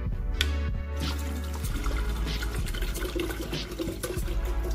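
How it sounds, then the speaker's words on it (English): Water is poured into an electric kettle, with a continuous splashing, filling rush that runs for several seconds. "now we're going to be putting the water in the electric kettle"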